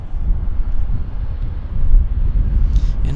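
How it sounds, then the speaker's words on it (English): Delta SkyWest Embraer regional jet landing at Vancouver airport, a steady low engine roar with wind rumble, fairly close and loud for a few seconds, with a brief faint higher whine near the end. "Baby Embraer. Nice landing."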